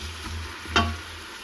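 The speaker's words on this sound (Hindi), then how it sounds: "अब हम इसको फ्राई करेंगे।" Chopped onion, one large one, starts frying in a pan for a gourd-and-meat curry: a low steady sizzle with a brief louder hiss and clatter near the middle, then a constant quiet crackle, no talk.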